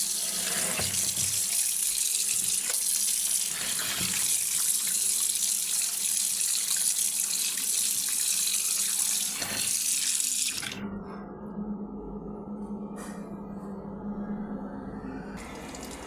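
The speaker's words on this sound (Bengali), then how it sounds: "এখন মাছটা আমি আস্তেই আমি ধুয়ে নেব।" Hilsa fish being rinsed under a running kitchen tap, a steady broadband rush of water pouring into a sink that changes pitch and softens partway through as the flow shifts, with no talking.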